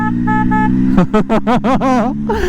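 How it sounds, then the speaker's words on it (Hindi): A motorcycle horn blares, first in a steady tone, then in a quick series of short bursts before one final sustained honk, close and loud. "न्यू एग्जॉस्ट, न्यू हॉर्न की तो क्या कहने, देखो"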